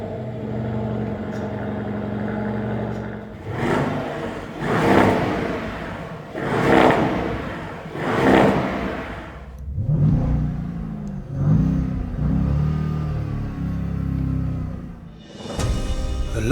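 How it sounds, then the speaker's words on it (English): An Audi SQ9 twin-turbo V8 starts and revs, rising in four or five loud swelling bursts with idle dips between them, heard close with no talk. "let's fire it up and listen to that glorious twin-turbo V8"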